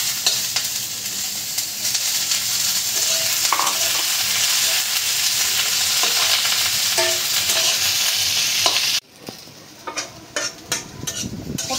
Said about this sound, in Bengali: পটলের চিকলাটা অবশ্যই ভাজা বানাইতে হবে।